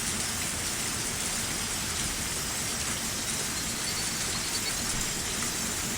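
Steady, heavy rain in a video game (Higurashi no Naku Koro ni) pours without a break, a dense even hiss with a faint low rumble underneath and no voices.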